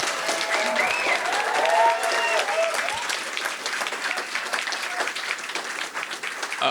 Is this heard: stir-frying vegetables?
no